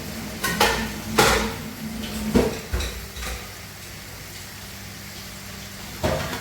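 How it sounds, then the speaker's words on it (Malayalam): Coconut milk is poured into a soya and cauliflower curry and stirred in a pot: a few scattered clinks and scrapes of a spoon against the pan, separated by quieter stretches, with no voices. "അപ്പോൾ ഈ പാല് അതിലേക്ക് ഒഴിച്ചു കൊടുക്കാം നമുക്ക്."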